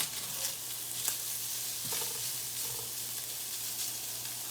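Philly cheesesteak filling of meat sizzles in a pan, a steady close hiss of frying with soft stirring scrapes and a few light utensil clinks.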